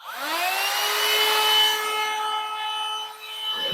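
Cordless leaf blower bought from AliExpress, fitted with a homemade battery pack, spinning up with a rising whine into a steady loud motor hum with bright harmonics, then cutting off near the end.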